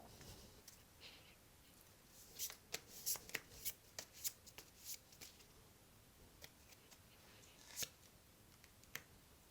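Tarot cards being shuffled by hand, soft close riffling and crisp snapping flicks in irregular bursts, quiet and intimate with no talk.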